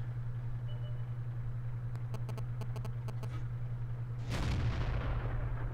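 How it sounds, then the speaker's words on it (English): Tank gun fires in World of Tanks from an M18 Hellcat: a sharp, loud blast near the end over a constant low engine hum, preceded by a quick series of faint clicking ticks. "Just blind firing here now to see, hopefully we're hitting it."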